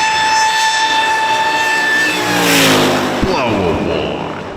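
A car engine revs up with a rising supercharger blower whine, loud and close, then the pitch sweeps down as it passes.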